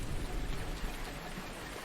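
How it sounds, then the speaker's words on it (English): Steady rain hiss in the Farming Simulator 19 video game, a dense, even wash of falling rain with a low rumble underneath, continuous and fairly faint, with no voices. "The rain is gonna stop soon"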